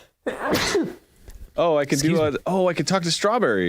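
One sharp sneeze bursts out near the start, followed by someone talking in a lively, casual way.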